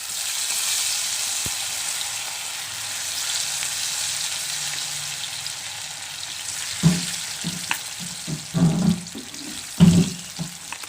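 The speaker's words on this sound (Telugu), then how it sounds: "మిగతావన్నీ కూడా వేసేసుకుని వేయించేసుకోండి" Pakodi sizzling steadily in hot oil for a protein-rich millet-maker snack, a constant hiss throughout with a few louder stirring clatters and splashes near the end, no talking.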